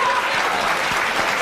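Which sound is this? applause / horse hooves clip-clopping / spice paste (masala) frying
applause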